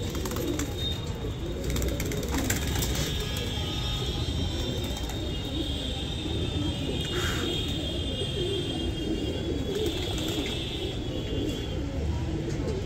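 Gardaan pigeons leave a net outdoors, their low cooing and rustling spread evenly across a continuous ambient hiss, with a brief sharper call near the middle.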